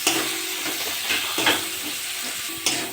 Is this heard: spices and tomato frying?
yes